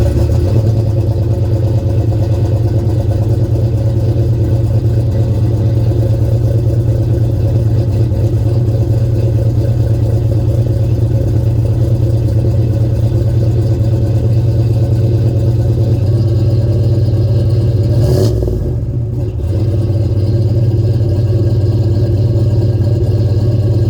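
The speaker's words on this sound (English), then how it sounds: "get you some exhaust sounds and blow off valve sounds" A turbocharged 1989 Fox-body Ford Mustang engine drones steadily with a deep exhaust rumble, close and continuous, with a brief dip near the end.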